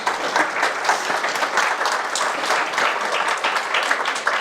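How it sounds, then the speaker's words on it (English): A panel discussion audience gives a sustained round of applause, dense steady clapping that fills the whole stretch at even strength, with no voices over it. "Thank you to our panelists. Let's give them a round of applause."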